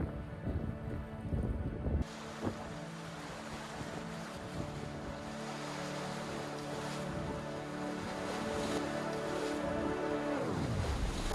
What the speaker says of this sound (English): we do have an engine on just to kind of help move us forward